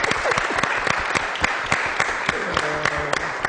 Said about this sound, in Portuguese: aplaudi-la!